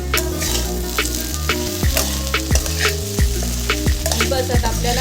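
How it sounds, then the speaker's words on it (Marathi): Okra bhaji frying and being stirred in a pan, a steady loud sizzle with repeated scraping strokes of the spoon against the pan, no talking. "व्यवस्थित मिक्स करून घ्यायचं आहे दोन ते तीन मिनिट"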